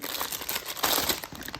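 Plastic zip-lock snack bags being handled, giving close, busy crinkling and rustling with a louder crackling burst in the middle.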